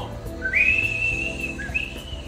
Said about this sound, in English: let's hear the whistle.